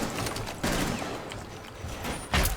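Rapid gunfire from a 417 rifle in a first-person shooter game, dense crackling shots in quick bursts with sharper peaks near the start and end, loud and close.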